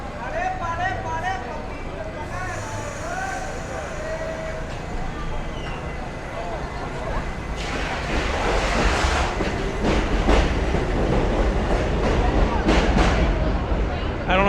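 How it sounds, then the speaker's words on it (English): A subway train on an elevated line rumbles and grows louder, sparking on the third rail with sharp crackling bursts and rattling over a steady roar, while people talk nearby at a street festival in Bensonhurst, Brooklyn. "That was the train sparking on the third rail."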